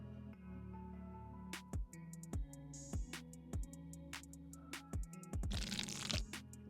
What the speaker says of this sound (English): And now we're gonna add the cheese sauce.